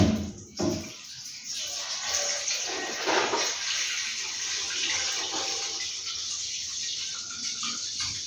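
Water poured into a container aboard a handline fishing boat at sea, a steady splashing, rushing flow lasting throughout, close and fairly loud with a brief gap near the start.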